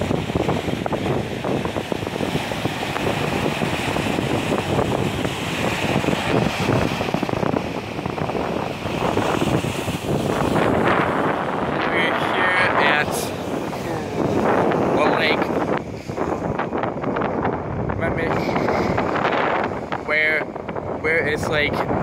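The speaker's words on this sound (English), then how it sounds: "super, super windy, but it's just amazing." Strong sea wind roars and gusts steadily against the microphone near crashing waves, with someone talking beneath it.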